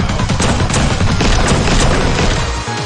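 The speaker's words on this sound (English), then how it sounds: "You fire off a shot." A spaceship in a space video game fires off a shot, heard as a loud, dense burst of blasting and crashing noise that stays sustained for nearly three seconds before easing slightly at the end.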